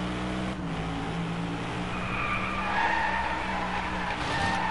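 Car tyres skid and squeal continuously in the Driveclub racing game, a sustained screech over a droning engine that stays close and loud for several seconds.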